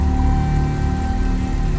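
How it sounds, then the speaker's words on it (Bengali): A parked Toyota Innova idles in a courtyard, its engine giving a steady low rumble with a faint tonal hum, close and unbroken, with no voices. "ইঞ্জিনটাও তো চালু রয়েছে"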